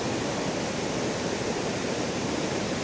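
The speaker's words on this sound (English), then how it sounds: "the water level is quite high, making for a much more spectacular waterfall" An Alaskan rainforest waterfall running high after rain roars as a steady, dense rush of water, loud and unbroken throughout, with no voices.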